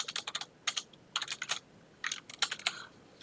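Keystrokes on a computer keyboard come in three short clustered bursts of crisp, close clicks separated by brief pauses, with no talk.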